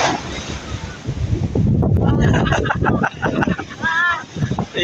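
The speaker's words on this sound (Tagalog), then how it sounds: "Medyo malaki-laki pa yung alon." Large ocean waves crash and surge in heavy bursts during Typhoon Carina, buffeted by strong wind against the microphone.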